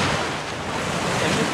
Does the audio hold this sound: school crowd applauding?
no